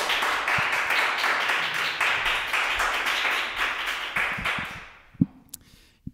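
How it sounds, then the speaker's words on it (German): A theatre audience applauds a comedian taking the stage, a dense, lively burst of many hands clapping that holds steady, then fades out abruptly into a few scattered claps and knocks. "Bühne frei und Applaus aus dem Saal für Steven."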